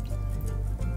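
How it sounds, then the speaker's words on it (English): Water pours steadily into a stainless steel pan for caramel sauce, a brief continuous liquid rush with a low bubbling fill, close and moderately loud. "So what we're going to do is pour our water in."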